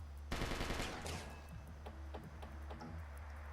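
Heavy automatic gunfire in a Mars-set video game, a loud dense burst near the start followed by scattered shots and softer cracks continuing under the game ambience.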